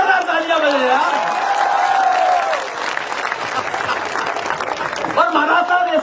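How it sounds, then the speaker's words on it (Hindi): At a Hindi comedy poetry gathering, a crowd bursts into loud applause with some cheering, while someone speaks over the clapping near the start and again at the end. "महाराज साहब के लिए जोरदार तालियां बजे यार।"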